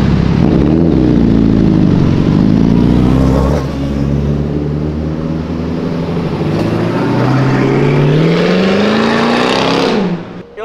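Sport motorcycle with a stainless steel exhaust revving hard, loud and close, its pitch sweeping up and down in repeated rising and falling swells before cutting off abruptly near the end.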